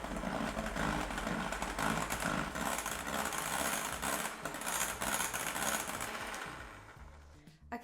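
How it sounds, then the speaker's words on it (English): Electric hand mixer whirring steadily as it blends Nutella into whipped cream for an Oreo pudding, a continuous close motor drone with slight load changes that winds down near the end. "just grab your mixer again and we're just gonna mix this in until it's fully combined"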